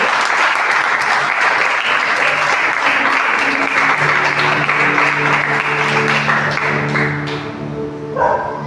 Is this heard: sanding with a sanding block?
no